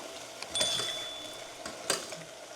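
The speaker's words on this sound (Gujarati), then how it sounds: "તો ચાલો ફરીવાર આપણે ગવારને એકવાર મિક્સ કરી લઈએ." Cluster beans (guar) being stirred in a cooking pot: a utensil scrapes and clinks against the metal in a couple of distinct strokes, the second sharper, over a quiet, faintly hissing kitchen background with no talking.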